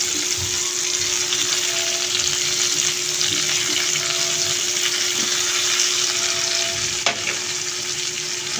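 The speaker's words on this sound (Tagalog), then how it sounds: "Igisa ko muna ang buwad." Dried fish (buwad) sautés in a pan with onion, garlic and squash, giving a steady, close sizzle and crackle that runs unbroken from start to finish, with a few faint clinks of a utensil.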